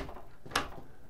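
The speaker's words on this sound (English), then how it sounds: "I'm going to shut this door" The door of an 8-by-20-foot off-grid tiny home swings shut with a single sharp, close knock, a brief thud in an otherwise quiet room.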